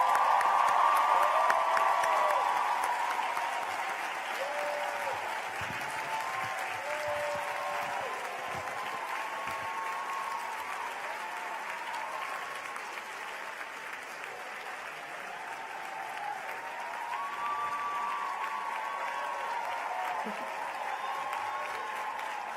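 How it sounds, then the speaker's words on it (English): Graduates at a 2019 Harvard Graduate School of Education commencement diploma ceremony give a sustained round of applause to their supporters, a broad steady wash of clapping from a large crowd that swells at first and continues throughout. "give a huge round of applause to all those who have supported you in your journey here."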